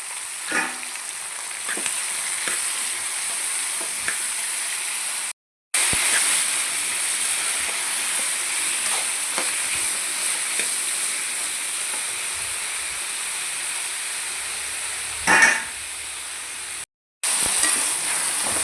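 Tomato pieces sizzle in a pan with browned onions for a white brinjal kurma, a steady close hiss and crackle that runs on with a couple of brief dropouts and one sharper stir near the end.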